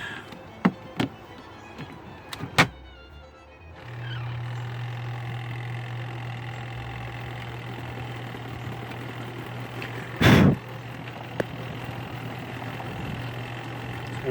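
A Costway mini washing machine (EP21684) spins with a steady low motor hum that starts a few seconds in, preceded by a few sharp clicks and knocks, with a brief loud thump midway through.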